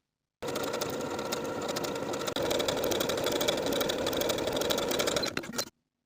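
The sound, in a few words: sewing machine zigzag edge stitching a T-shirt sleeve hem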